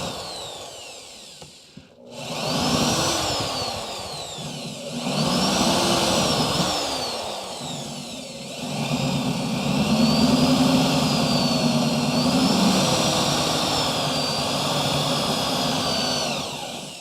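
A carbide burr grinds on the body of a crew cab Charger project car, a loud, close rotary whir in three sustained bursts with pitch shifting under load and brief pauses between them.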